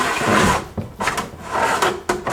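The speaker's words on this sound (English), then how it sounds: "Of the door sliding freely up and down." A wooden door in an automatic door opener setup slides up and down in its runners, giving repeated rubbing and scraping strokes with small knocks at each end of travel, close and clear.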